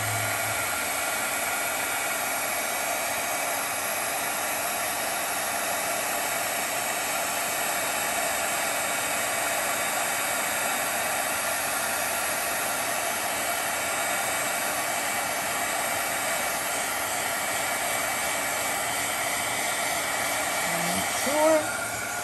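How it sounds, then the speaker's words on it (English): An embossing heat tool blows a constant, loud, close rush of hot air for about twenty seconds with no voices, like a hair dryer running unbroken before a brief knock at the end. "You grab your heating tool. You let it run for a little bit."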